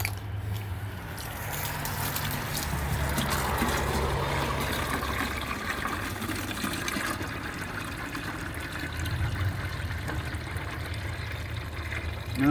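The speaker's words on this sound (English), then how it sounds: "And I'm gonna add water to it." Water pours steadily into a garden watering can, a continuous trickling and splashing fill with a low rushing undertone that runs throughout at moderate level, with no talking.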